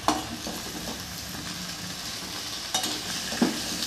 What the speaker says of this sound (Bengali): পরিমাণ মতো লবণ, হলুদ গুঁড়ো, সব কিছু দিয়ে এবার কিন্তু আমি ভালো করে কষিয়ে আনবো।